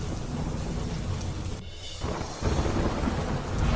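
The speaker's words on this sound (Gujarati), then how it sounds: "આટકોટ સાણથલીમાં ભારે પવન સાથે વરસાદ પડ્યો" Heavy monsoon rain with strong wind pours steadily in Gujarat, a loud dense hiss that drops away briefly mid-way before surging back even stronger.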